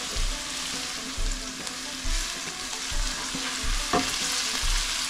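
Pork ribs kaldereta base with red onion frying in oil, a steady close sizzle broken by periodic stirring scrapes and pan knocks.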